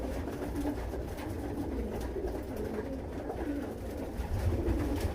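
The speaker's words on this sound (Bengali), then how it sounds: "এটা পিওর গিলিবাস কবুতর" Pigeons at a Giribaz pigeon farm coo softly and steadily, a low murmuring chorus that runs continuously through a bed of ambient noise, with no voices.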